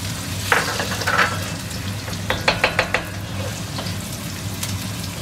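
Garlic and ginger fry in chili oil in a hot pan, a soft continuous sizzle with scattered stirring knocks and a quick cluster of sharp taps near the middle.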